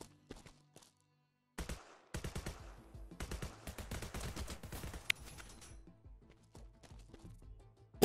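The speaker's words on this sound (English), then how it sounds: "Bullets." Gunfire in the video game Sword with Sauce comes as rapid bursts of automatic shots with short gaps between them. The shots are moderately loud and heard alone, with no voices.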